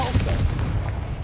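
Depulso spell cast in Hogwarts Legacy, a short booming blast with a crackling burst over low rumbling game ambience.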